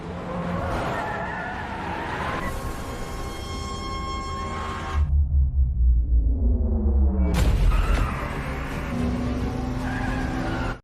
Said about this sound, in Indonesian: Mereka merampas taksi dan kejar-kejaran pun terjadi.